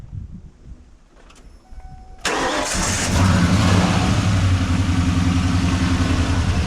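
A 1994 Ford Bronco engine is cranked and catches after a few seconds of quiet clicking, then settles into a loud, steady, close idle rumble.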